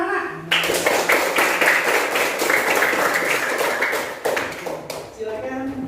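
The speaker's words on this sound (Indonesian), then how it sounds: "Oke, tepuk tangan anak-anak." Classroom of sixth-grade schoolchildren clapping together in a Qur'an lesson, a burst of quick, fairly loud claps lasting several seconds, with a brief voice before and after.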